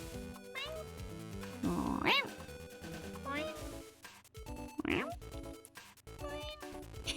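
A human voice imitates a cat's meow several times, with rising and falling mewing calls over a busy, loud background of Mega Man Battle Network 4 game music.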